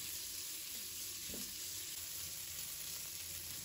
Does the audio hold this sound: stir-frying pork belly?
yes